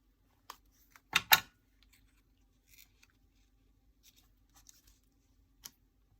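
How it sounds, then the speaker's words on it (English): A scrapbook layout piece being cut and trimmed, a couple of close, crisp snips followed by sparse faint clicks and rustles in a quiet room. "I'm just going to do a bit of cutting and trimming"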